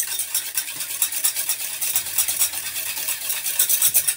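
Cake batter with no eggs or butter is whisked by hand in a bowl, giving a fast, steady, bright swishing and clicking rhythm that carries on without pause.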